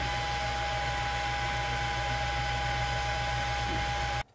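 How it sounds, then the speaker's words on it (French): A Creality Falcon2 Pro 40W laser engraver's fume extraction fan runs at full power: a steady, loud fan roar with a constant low hum, running without pause until it cuts off abruptly near the end. "Le ventilateur marche à plein"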